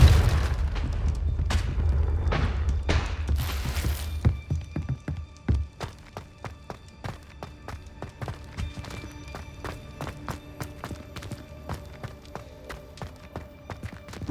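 Confringo fire spell explosions in the Hogwarts Legacy video game, heavy booms opening the clip, followed by a long stretch of rapid clattering impacts and footsteps-like thuds in game combat.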